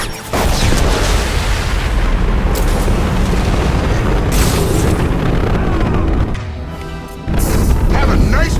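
A huge, sustained explosion roars in the video game Mass Effect 2, a loud rumbling blast that carries on for several seconds, dips briefly, then surges back at full strength.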